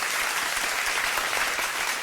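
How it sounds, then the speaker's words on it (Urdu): Loud, steady audience applause fills a studio during a Ramadan TV segment, dense clapping sustained without a break. "میں چاہوں گا آپ سب ایک تالیاں زوردار ہونی چاہیے"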